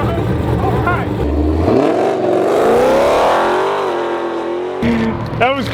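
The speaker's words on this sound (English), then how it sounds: "Get a little more practice on that burnout" Car doing a burnout on a race track, the engine revving hard and rising in pitch with tire squeal, then dropping off before another rev, fairly close and loud.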